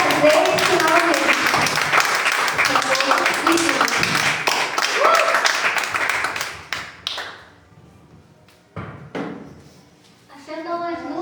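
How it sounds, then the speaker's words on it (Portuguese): A church congregation applauds, brisk clapping mixed with talk and voices for several seconds, then fading into sparse taps, thumps and speech toward the end. "Aplauda o nome do Senhor."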